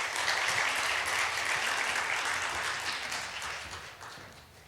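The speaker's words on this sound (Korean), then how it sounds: "나오실 때 뜨거운 박수로 맞이하겠습니다" A church congregation at an evening sermon service greets the pastor with warm, dense applause. The clapping is loud and continuous, then gradually tapers off. No talking is heard.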